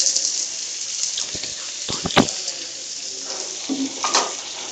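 Chopped cabbage hitting hot oil with cumin seeds in a pan for vegetable spring roll filling, a steady broadband sizzle with a few sharp crackles and spatters partway through, close and fairly loud with no talking.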